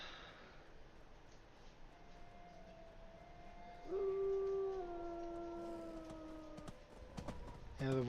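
Wolves howling in the video game Skyrim, a long sustained wavering howl rising from about midway and holding for several seconds, with fainter overlapping howls over low ambient game sound.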